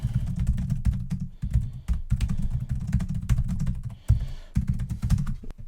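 Fast, continuous typing on an Acer Aspire 3 laptop's chiclet keyboard with soft, low-resistance keys, producing dense close-up key taps with a couple of brief pauses and no voices.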